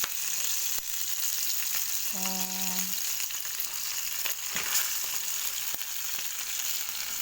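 Steady, dense crackling and sizzling of fish frying in hot oil, continuous throughout, with a brief soft utterance and a short tonal beep partway.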